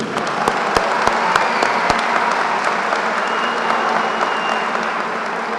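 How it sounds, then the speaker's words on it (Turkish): Loud, sustained audience applause at an association's social responsibility event, honouring Atatürk and teachers: dense, even clapping from a large crowd filling the whole moment. "Bu nedenle en başta Gazi Mustafa Kemal Atatürk ve bütün öğretmenlerimize bir alkış istiyorum burada."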